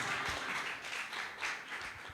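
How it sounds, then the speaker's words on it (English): An audience at an HR panel event claps in steady, dense applause that stays at an even level for a couple of seconds. "the more you clap"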